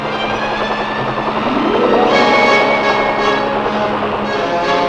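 A huge Chinook helicopter flies carrying a sling-loaded lightweight howitzer, its steady, loud rotor drone and engine whine filling the air continuously, with a slight swell in intensity midway and no voices.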